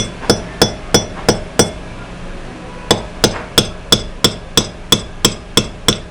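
A claw hammer drives concrete nails into a wall for a satellite dish mount, sharp metallic strikes ringing close by: a quick run of five blows, a pause, then about ten more evenly spaced hits.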